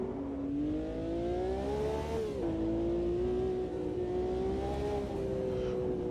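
A 1971 V12 Ferrari F1 car on the old Nordschleife in a VR racing game, its engine holding a loud, steady high-pitched howl close by with slight rises and dips in pitch, alone without talk.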